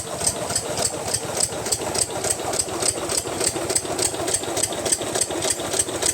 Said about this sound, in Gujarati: એક મશીન અહીંયા ચાલુ છે અહીંયા જુઓ અહીંયા પણ મશીન છે આ દસનું એન્જિન છે